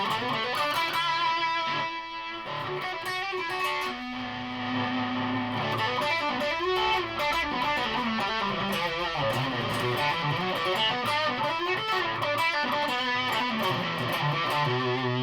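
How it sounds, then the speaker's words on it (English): Loud electric guitar through a Laney amp with heavy metal distortion, dense chugging riffs and sustained chords played continuously with no pauses. "So basically it's just a volume and then a slight distortion pedal."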